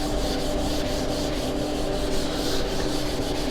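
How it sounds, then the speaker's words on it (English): A classroom board is being wiped clean of chalk writing with a steady, continuous scrubbing rub, close and even throughout with no voices. "So I'll rub this recap part."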